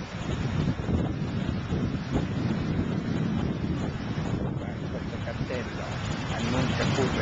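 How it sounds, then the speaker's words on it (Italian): Wind buffeting the microphone outdoors on a narrow mountain road climbing toward a pass, a constant low rumbling roar throughout with no pauses. "c'è un po' di vento"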